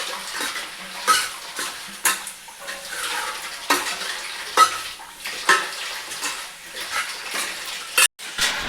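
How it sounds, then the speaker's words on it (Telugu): Chicken curry frying in oil, with repeated metal spoon scrapes and clinks against the pot over a continuous sizzle, close and fairly loud, with no talk. "ఇది మంచిగా నూనెలో ఫ్రై కావాలి"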